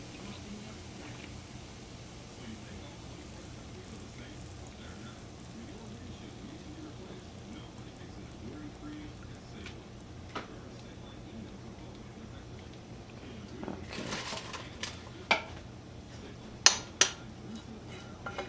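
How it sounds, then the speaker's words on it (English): Pholourie being lifted from hot frying oil with a scoop and left to drain, heard as a steady soft crackle and hiss of oil throughout, with a cluster of sharp metallic clicks and scrapes of the utensil near the end. "I'm just going to again scoop it out of the oil and allow the excess oil to drain"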